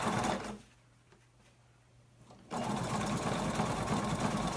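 A sewing machine top stitches a slim wallet, running loud and steady, pausing briefly with a faint hum, then resuming its rapid close whirring stitch.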